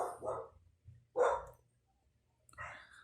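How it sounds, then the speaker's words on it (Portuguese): A small dog barks three times in short, sharp bursts that sound fairly close, with quiet gaps between them in an indoor setting. "o cachorro latiu"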